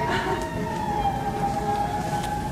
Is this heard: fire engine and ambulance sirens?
yes